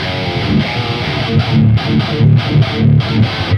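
Heavily distorted, scooped modern metal guitar played through a Neural DSP Quad Cortex, loud chugging palm-muted riffs with short choppy stops, no voices.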